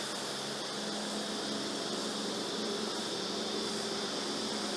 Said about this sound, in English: the bees, some of the bees are going to want to climb up and fly